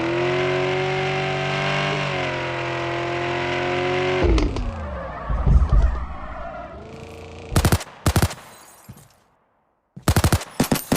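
Car engine in the mobile driving game Caucasus Parking, a steady droning hum that rises slightly, then shifts into rougher revving and rattling before sharp, loud bursts and brief gaps of silence.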